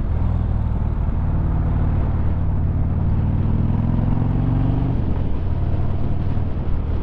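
A motorcycle rides through the city streets of Saskatoon, its engine droning loud and steady, with a low rumble that shifts in pitch as it moves and no voices.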